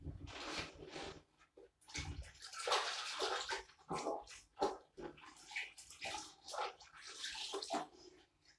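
Water splashes and gushes over a freshly grouted shower floor during rinsing, in uneven bursts of spraying and pouring, close and fairly quiet, with no talking.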